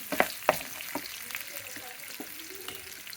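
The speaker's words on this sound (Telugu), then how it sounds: "ఇప్పుడు టమాటాలంతా బాగా వేగాలన్నమాట." Mashed eggplant and tomatoes frying in a pan, a steady soft sizzle broken by a few sharp clinks of a spoon against the pan early on, with faint speech in the background.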